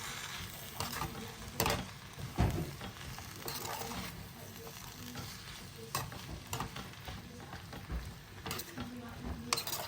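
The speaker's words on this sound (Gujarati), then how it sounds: "થોડો કેચઅપ એડ કરીશું અને આપણે બધું હવે મિક્સ કરીશું." Stirring and frying an Indo-Chinese sauce mixture with ketchup, garlic and Schezwan chutney, a steady sizzle broken by scraping strokes of a spoon against the pan, with a few sharper clanks.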